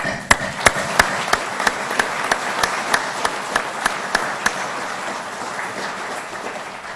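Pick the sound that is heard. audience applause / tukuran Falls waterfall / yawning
audience applause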